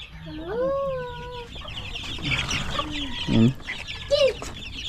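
Rhode Island chickens clucking and calling around a farmyard, a drawn-out crowing-like note early, then scattered clucks and squawks at close to moderate distance over steady background noise.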